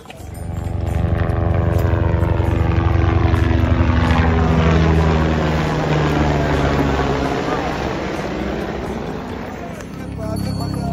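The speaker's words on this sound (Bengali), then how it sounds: "একটু পরপরই হেলিকপ্টার" A helicopter flies over the Kedarnath trekking route, its rotor drone loud and close as it passes overhead, then fading as it moves away. The pitch slides downward as it goes, and people talk over it.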